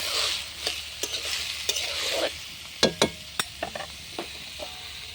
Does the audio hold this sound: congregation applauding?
no